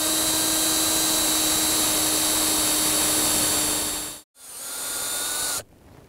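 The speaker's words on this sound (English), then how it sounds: "we're gonna use a 7/16 inch bit, and we're just gonna create a small hole in order to insert the spile" Power drill with a 7/16 inch bit boring a tap hole into a maple tree at an Ohio state park, a loud steady whine that dips briefly, restarts, then cuts off, leaving faint background.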